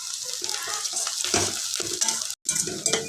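Onions frying with spice paste in a pan for a prawn fry, a loud close sizzle with repeated scraping stirs and a brief pause near the end.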